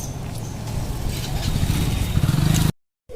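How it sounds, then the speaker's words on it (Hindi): A motorcycle engine runs with a steady mid-pitched drone that swells and revs briefly near the end before cutting off abruptly. "ये देखो बाइक स्टार्ट कर रहे हैं।"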